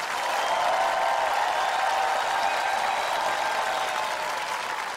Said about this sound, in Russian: Эти аплодисменты ваши.